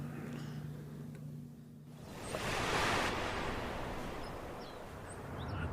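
Small ocean waves lapping at the shore below a seaside prison, a soft surging wash that swells and recedes under steady wind noise, with a faint low hum at the start.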